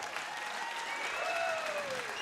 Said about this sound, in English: a round of applause for both fighters